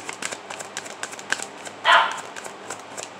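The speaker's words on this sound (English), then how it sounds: "Oops, sorry, that was my dog." A dog lets out one short, sharp bark indoors, brief and fairly loud, rising above a background of light clicking and rustling.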